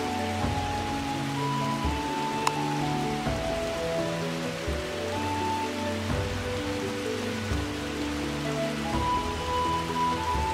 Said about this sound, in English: Nice raining.